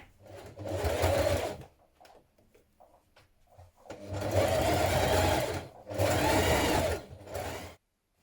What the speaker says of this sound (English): we're going to top stitch those in place